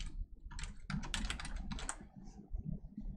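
Close, quiet keystrokes on a computer keyboard come in quick bursts separated by short pauses, with no voices.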